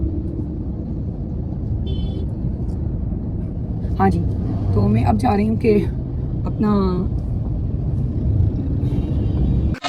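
Steady road traffic rumble in Hyderabad with traffic police halting vehicles, a continuous low engine drone throughout while someone talks over it.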